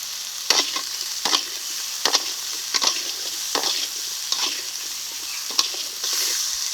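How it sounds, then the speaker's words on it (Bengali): Bitter gourd and potato pieces with salt, turmeric and slit green chillies frying in oil, a steady sizzle punctuated by regular spatula scrapes about every half second, no one speaking. "এখন উচ্চে আলুটাকে ভেজে নেব"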